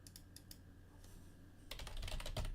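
Quick clattering keystrokes on a computer keyboard, sparse taps at first, then a dense burst of rapid typing, close and alone.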